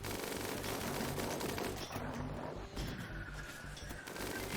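Defensive turrets firing in combat in the colony-survival game RimWorld, set in a fjord, a dense continuous rattle of gunfire with overlapping bursts, loud and steady throughout with no speech.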